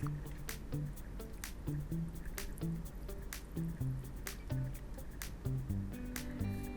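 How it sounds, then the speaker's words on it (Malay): A spoon stirs a mixture of glue, baking soda and contact lens solution into slime, making quiet, rhythmic wet squelches and sticky clicks with each close stroke. "kacau elok-elok supaya tak ada bubbles"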